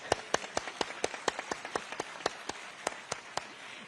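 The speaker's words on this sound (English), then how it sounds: "Please give her a big round of applause." Audience applause at a live event in New Delhi with the French President, a dense burst of clapping with sharp individual claps standing out over a steady crowd wash, sustained for a few seconds with no talk.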